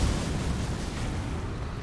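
Bayle's Tyranny incantation in Elden Ring's Shadow of the Erdtree, a sustained, loud, rumbling fiery explosion with crackling magma that fills the moment without talk.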